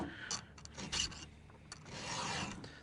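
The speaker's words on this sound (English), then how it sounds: "once you get better at sharpening chains, you don't have to sharpen them a whole bunch" A file rasps across a chainsaw chain to sharpen it, a few short, quiet scraping strokes heard close up with no talk.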